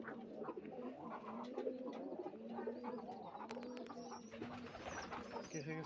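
Pigeons coo softly and repeatedly while feeding at night in a coop, with a few chirps and faint rustling in the background; the coos come in low, rhythmic bursts.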